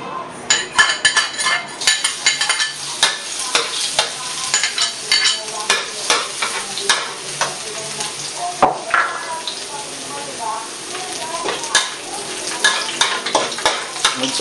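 Chopped garlic fries in hot oil in a pan for shrimp fried rice, giving a close, steady crackling sizzle broken by frequent scrapes and clinks of a utensil stirring against the pan.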